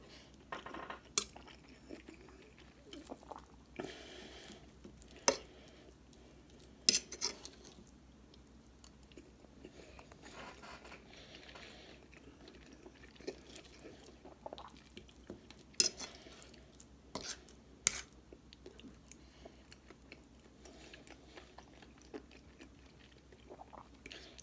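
Raw hamburger is chewed close to the mic, giving soft, wet chewing and biting sounds that repeat through the stretch, with occasional sharp clicks of utensils against a dish.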